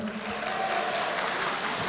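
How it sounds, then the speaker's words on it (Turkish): Audience applause at a Kağıthane municipal consultation meeting with civic associations: dense, even clapping from a full room, sustained and fairly loud for two seconds with no talk over it. "Samsun'u alkışlıyoruz"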